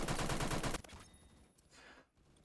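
G3A3 battle rifle in a shooter game firing a fast, loud burst of 7.62 rounds from the hip for under a second, followed by quieter mechanical clatter and fading echoes.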